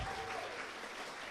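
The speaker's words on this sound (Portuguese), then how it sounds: "Pode aplaudir." Lecture audience applauding during a religious talk about the Ark of the Covenant, a steady wash of many hands clapping filling the whole short stretch at even, moderate loudness.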